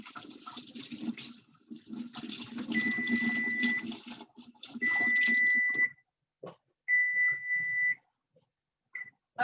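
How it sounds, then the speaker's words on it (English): Hands rinsed under a running kitchen tap, a steady close splash of water with gaps where the flow stops, broken by a few short electronic beeps toward the end. "let me rinse my hands real quick"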